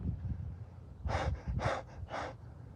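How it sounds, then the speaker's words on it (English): A man breathes hard after cutting thorny tequila agave plants with a reciprocating saw, giving three loud, breathy exhalations in quick succession over faint low background noise. "I'm panting like a dog on a hot day."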